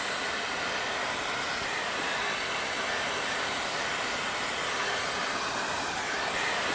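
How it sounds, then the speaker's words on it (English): A shop vac or air vac clears rubber dust from inside a tire under repair, making a continuous broadband rushing roar that holds steady for several seconds, close by. "we're going to use a shop vac or an air vac"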